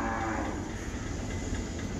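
Cattle mooing at a dairy farm holding Gir, Sahiwal and Kankrej breeds, a long low continuous bellow sustained through the whole stretch against steady barn noise.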